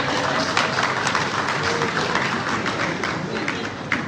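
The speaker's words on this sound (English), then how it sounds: "Let's cheer." Dense applause with some cheering from a crowd at a Sierra Leone Bar Association election gathering, continuous clapping with scattered sharper claps, fairly loud and sustained throughout.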